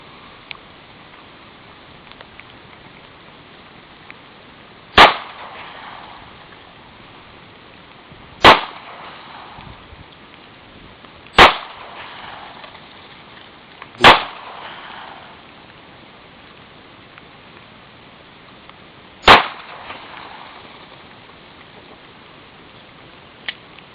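Five sharp, loud gunshots from a Para Ordnance P7.45 pistol, spaced a few seconds apart at irregular intervals, each a crisp crack with a short tail, against quiet background.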